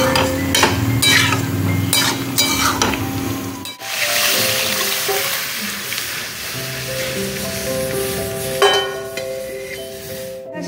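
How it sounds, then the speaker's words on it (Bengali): A cooking pot is rinsed under running water, with a steady wash of splashing water and occasional clinks and scrapes of metal against the sink. "একটু পাত্রটা ধুয়ে দিয়ে দিই।"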